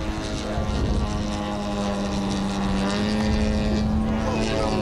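An RC scale model of the Mulligan racing airplane runs its engine at an airshow in Westport, NY, a close, steady droning tone that holds nearly constant pitch across the few seconds.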